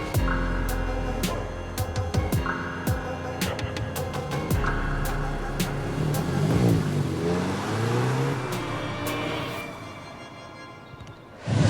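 An Audi S3 driving on the road, its engine revving and climbing through gears with a cabin hum and repeated clicking ticks, heard from inside the car at moderate level.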